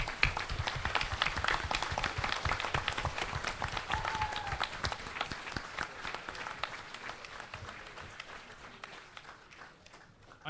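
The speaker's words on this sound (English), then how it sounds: "Please join me in a round of applause for these fine teachers." A conference crowd applauds retiring teachers at a state business meeting, steady, dense clapping that fills the hall for about ten seconds before gradually thinning out, heard from a distance and with no talking over it.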